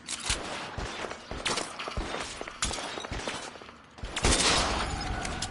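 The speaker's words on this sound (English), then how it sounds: "Might be a good idea to use this gun." Gunfire in the video game L.A. Noire during a zombie-mode fight, a rapid volley of sharp shots in irregular bursts with a brief lull before a loud final salvo.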